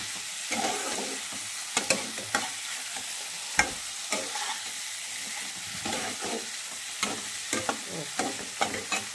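Chicken marinated in lemon juice, salt and turmeric is fried and stirred for a dry Bengali kosha. A steady, close sizzle runs throughout, broken by repeated sharp scrapes and clacks of stirring.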